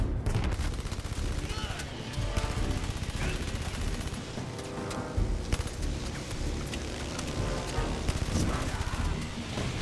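Rapid bursts of gunfire from the VR shooter game Blood & Truth, dense crackling shots and heavy impacts layered almost continuously, loud and busy with a player's voice talking over the action.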